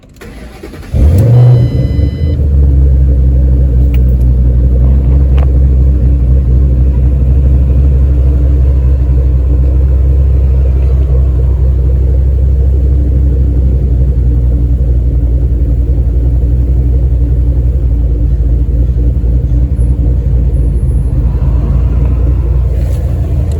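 A Ford Mustang GT 3-valve engine with Ford Performance cams cranks and fires up, then settles into a loud, deep, steady rumble with a low throaty idle that continues throughout.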